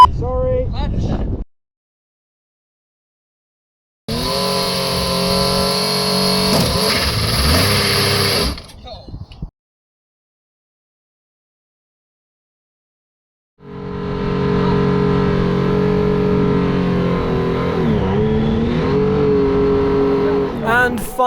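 A Formula Student race car engine runs loud and close in two long stretches separated by silence, its tone rising and wavering as it revs and pulls away.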